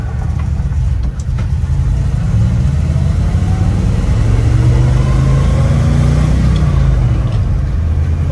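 A 1977 International Scout's engine drones steadily and loudly from inside during a test drive, its pitch rising and falling as the gears shift, with no talking heard.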